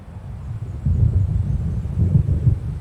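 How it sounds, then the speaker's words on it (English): A thunderstorm in the video game Alan Wake Remastered, heard as a low, continuous rumble that swells in a couple of broad waves with wind-like noise over it, with no voices. "It seems there's a storm coming."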